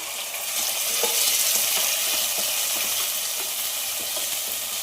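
Tomatoes drop into a pan of already fried onions and fry noisily, a dense close sizzle that swells quickly and holds steady with light crackling.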